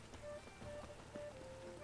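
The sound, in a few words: rain in the video game The Witcher 3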